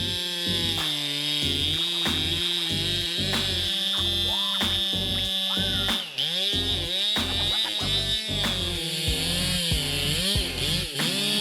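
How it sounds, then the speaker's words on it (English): A loud Stihl MS881 chainsaw roars close by, its engine revving up and down repeatedly as it cuts through a giant oak tree, continuous and harsh. "The power and durability of the MS881 have allowed him to perform demanding tasks such as sawing down giant oak"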